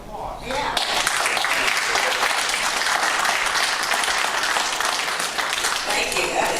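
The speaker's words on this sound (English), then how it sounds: "I think we need to give her an applause" Audience applause at a community meeting in a library, a dense, steady wash of clapping that starts abruptly and holds loud for several seconds, with voices faintly mixed in.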